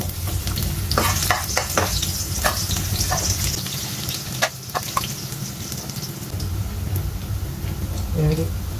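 Garlic fries in cooking oil for pancit canton guisado with a steady, close sizzle and crackle, broken by stirring scrapes and taps, while a voice talks over it.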